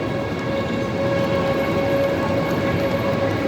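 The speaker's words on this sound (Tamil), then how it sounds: "இதுதான் மக்களே ஃப்ராங்க்ஃபர்ட் ரயில்வே ஸ்டேஷன்." Steady rumbling ambience at Frankfurt railway station, with a continuous low roar of trains and a faint sustained tone throughout, loud and even with no talk.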